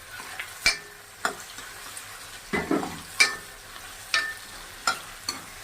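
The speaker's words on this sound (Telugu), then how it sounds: "మామిడికాయ ముక్కలు, బెండకాయ ముక్కలు, దోసకాయ ముక్కలు, అలాగే క్యారెట్ ముక్కలు ఇవన్నీ వేసి ఒక్కసారి కలపండి." Mango, okra, cucumber and carrot pieces stirred in a pan for Nellore sambar, a soft sizzle under a series of spaced scraping clinks from the spoon against the pan.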